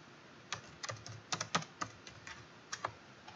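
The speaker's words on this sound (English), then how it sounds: "click where we want the text and type in what we want." Quiet typing on a computer keyboard: a quick run of light, irregular keystroke clicks, faint and close in an otherwise silent room.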